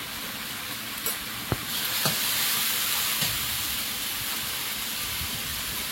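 Turmeric, cumin and coriander powder sizzle in hot oil with a steady, close frying hiss, a few sharp clinks of a utensil against the pan early on, no voices.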